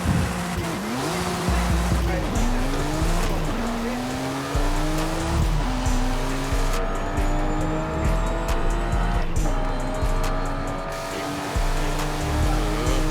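An upgraded BMW i8 sports car with a 614-horsepower engine drives in the Forza Horizon video game, a loud close engine whine rising and shifting through gears, with tire squeal and a deep rumble.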